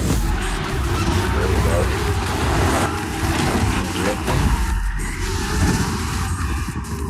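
Toyota Supra in a drift race, heard as a loud continuous roar of engine and tyre squeal with skidding, mixed with other cars and noise throughout.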